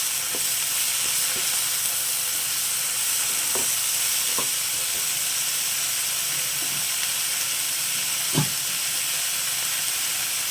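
Spices with turmeric and salt are stirred in a pan for Bengali moong dal with pumpkin greens. A soft, steady sizzle and hiss runs throughout, broken by a few light spoon taps, with no voices.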